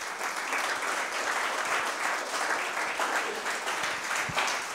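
A church congregation applauds the Lord in a sustained, even wash of clapping from many hands, filling the room without pause and with no speech over it.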